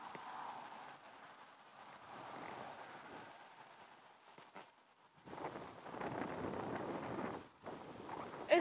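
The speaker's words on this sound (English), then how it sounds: "It's windy, guys." Wind blows outdoors, buffeting the microphone in soft, uneven gusts that rise and fall, fairly faint, with a stronger gust near the end.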